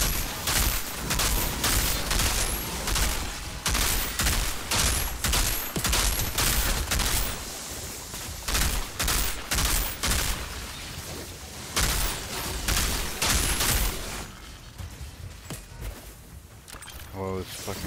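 Sustained enemy gunfire aimed at the player in the Payday 2 Chem Plant heist, dense rapid bursts and volleys with loud shots throughout, under occasional talk.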